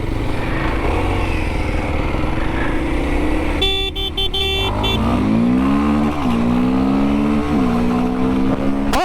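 Kawasaki KLX230 dual-sport motorcycle engine running while ridden, a continuous buzzing drone that rises and falls in pitch through throttle changes and gear shifts, loud and close with no talk.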